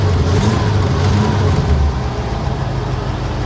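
A hail-damaged, nearly new Volkswagen car with its engine running: a loud, steady low rumble of idling close by, easing slightly in intensity partway through.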